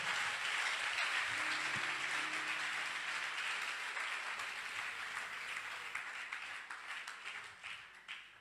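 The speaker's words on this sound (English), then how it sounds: "Clap those hands for the Lord." A church congregation claps for the Lord during a sermon. The clapping is sustained and moderately distant, with a low hum underneath, and it thins out gradually toward the end.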